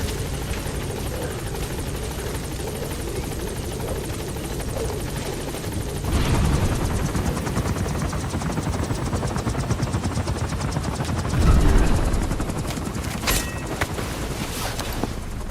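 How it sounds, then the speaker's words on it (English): A support helicopter arrives in a Metal Gear video game, its rotor thudding steadily throughout, swelling louder around the middle and again near the end, with bursts of game sound effects layered over it. "Support helicopter has arrived."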